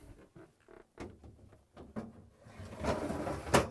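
A refrigerator crisper drawer, part of a Whirlpool/KitchenAid/Maytag pantry end cap kit, slides in on its rails with light scraping and a few soft clicks, ending in a louder thud as it seats.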